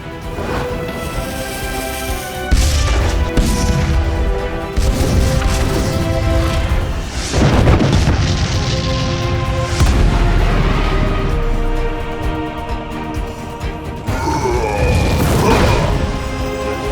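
Cannon fire and explosions in an animated sea battle: heavy booms and crashing blasts burst repeatedly over a dense, loud orchestral-style background, with several strong impacts spaced a few seconds apart.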